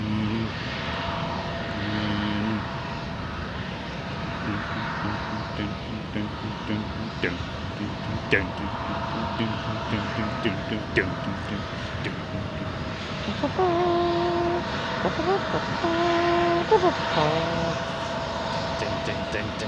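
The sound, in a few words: UPS freighter aircraft taxiing out to runway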